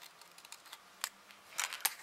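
Scissors cutting paper for a handmade shaker card, a few quiet crisp snips and taps spread across a short stretch, with a brighter burst of cutting near the end, no voices.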